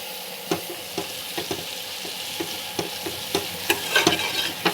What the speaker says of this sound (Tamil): வெங்காயம் நல்லா ப்ரௌனாக இந்த மாதிரி ஃப்ரை ஆகணும்